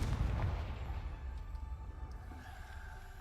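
In the Hogwarts Legacy video game, a Confringo blasting curse explosion hits as a deep, loud boom at the start, then settles into a low rumble over a few seconds.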